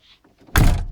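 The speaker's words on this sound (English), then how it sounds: "close the door" A Land Rover Discovery 300tdi front door swings shut with a single close, solid thunk after a few faint clicks, with no talking.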